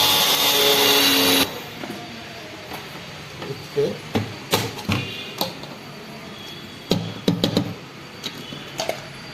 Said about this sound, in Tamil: நான் நேரில் ரெண்டு மிளகு உங்களுக்கு அரைச்சி